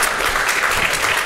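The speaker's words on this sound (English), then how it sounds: "Let's give these panelists a round of applause." An audience at a grazing talk gives the panelists a brief round of applause, a dense burst of steady clapping heard close and alone.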